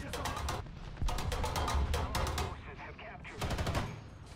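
Gunfire from a BTR-80A in a video game, several rapid bursts of heavy automatic fire separated by short pauses, loud and close against a quieter battlefield background.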